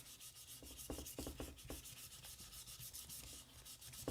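Hand sanding of an aluminum part from a vintage motorcycle using worn sandpaper, a steady close scratchy rubbing with quick repeated strokes, no voices present.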